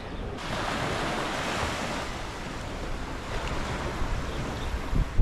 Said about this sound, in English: There were a lot of waves, not a great snorkel day